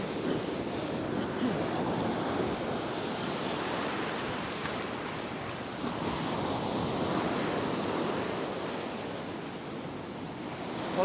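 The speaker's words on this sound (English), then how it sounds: "there's a lot of power in these waves" Powerful surf breaking steadily on a beach during fishing, a continuous roar of crashing and washing waves with wind noise buffeting the microphone, loud and close for the whole stretch, no talk.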